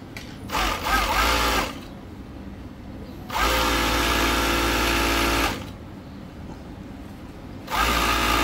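Kansai right-trimming sewing machine stitching and cutting women's underwear, running in three loud, steady buzzing bursts separated by quieter pauses, close up, with faint talk in the background.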